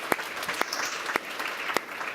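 Steady applause from a conference audience, a dense wash of many hands clapping with a few louder individual claps standing out, moderately loud and brief, with no talking over it.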